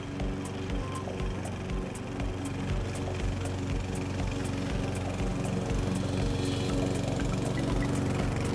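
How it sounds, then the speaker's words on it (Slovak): A Fieldmann FZR 5112-196BL petrol lawn mower with a 4 kW engine and 51 cm cutting width runs at steady revs, a loud, continuous droning engine hum with no pauses and no voices. "Dokázal udržať konštantne otáčky, ktoré mohli aj niekedy klesať, keď kosačka vchádzala do vysokého záberu"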